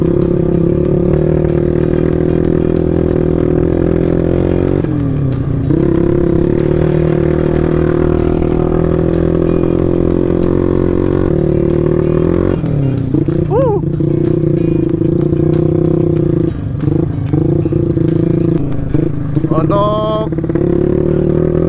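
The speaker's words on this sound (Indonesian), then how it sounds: "Motor yang saya pakai ini mesinnya standar, tapi pakai Norifumi GTX Pro" A modified underbone motorcycle with a stock engine drones steadily at close range while riding on a forest trail, with brief shifts in pitch as it eases off and picks up again.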